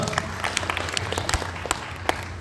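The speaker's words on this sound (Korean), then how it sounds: "하나님께 영광의 박수 올려드리겠습니다" A church congregation claps in applause during a summer youth retreat service, a dense, steady spread of many hands at moderate level with scattered sharper claps throughout.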